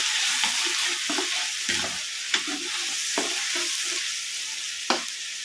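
Onions for a spicy meat curry sizzle and fry steadily in a pan, with a spoon stirring and scraping in several distinct knocks over the continuous hiss.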